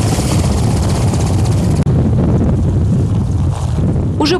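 A rescue helicopter lands on a cleared patch of a snow-covered reservoir, its loud engine roar and rotor wash blasting close and continuous, heavy wind buffeting drowning out everything else.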